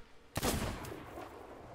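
A sniper rifle shot in the Sea of Thieves video game: one sharp, loud, close crack followed by a booming tail that fades slowly.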